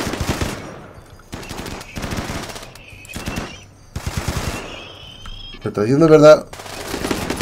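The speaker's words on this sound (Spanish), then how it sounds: "Me está disparando Pem, la torreta esta" Turret machine gun fire in the RimWorld video game, short rapid bursts repeating between stretches of a man's speech.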